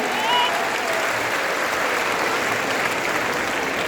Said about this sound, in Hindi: ताली बजाओ सभी के लिए